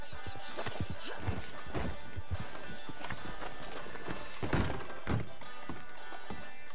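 Horses gallop in Red Dead Redemption 2, with dense clip-clopping hooves, thuds and crashes and a whinny, all loud and continuous across the scene.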